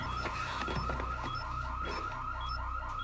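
Steady electronic bomb-timer beeping from a TV show repeats in a regular rhythm over a dense, busy background of low rumble and noise.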